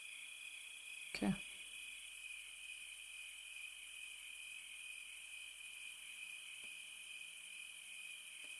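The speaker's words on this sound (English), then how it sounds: "Not music, just night sounds like crickets." Crickets chirping at night as a steady, continuous high-pitched trill, quiet and even throughout, with one brief soft knock near the start.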